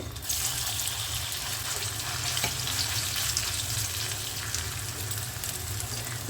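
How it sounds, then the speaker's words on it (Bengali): Potato peels frying in hot white oil in a kadai over medium to high flame, a continuous faint bubbling sizzle with light crackle held steady throughout. "এবারে চলুন আমরা সাদা তেলে এটাকে ফ্রাই করব"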